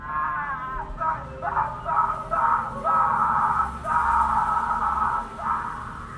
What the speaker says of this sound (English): The muffled, directional screams sent chills up my spine